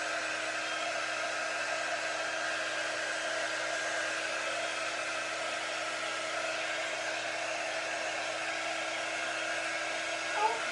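Hair dryer drying ink on a craft piece, a steady close whooshing blow with an even, unbroken hum that runs on at constant loudness, ending with a small bump.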